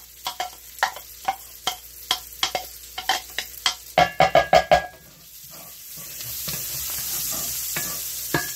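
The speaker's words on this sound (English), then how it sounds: "I'm only going to go do about 2 minutes with the garlic and then remove the pan from" Garlic sizzling in a frying pan, with a run of rhythmic scraping stirs that quickens into a burst of clanks, then settles into a soft, steady hiss of frying near the end.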